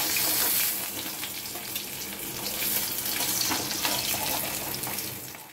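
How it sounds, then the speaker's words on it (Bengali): Fish frying in mustard oil in a kadai, a steady broadband sizzle with watery crackle that stays fairly loud and close throughout, with no voices. "মাছটা নিয়ে এবারে ভেজে নেব"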